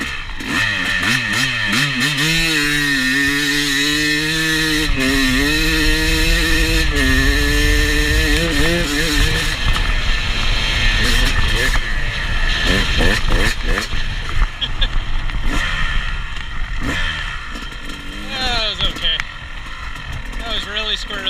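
A Yamaha YZ250X two-stroke dirt bike revs hard through a second-gear hard start on a smoky, rutted whoop track, the engine rising and falling in loud bursts with wheel spin while a voice talks over it.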